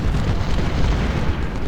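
Ultimate General: Civil War battle sounds with 10-pounder cannon artillery: a dense, loud, continuous low rumble of overlapping booms and blasts, sustained with no individual shot clearly separated.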